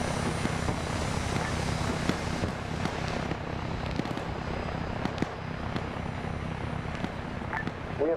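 A military helicopter in a Fallujah combat video game drones steadily close by, with a constant rotor and engine roar throughout and scattered sharp gunfire cracks and bangs over it.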